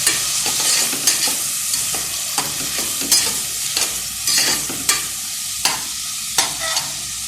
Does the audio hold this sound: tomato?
yes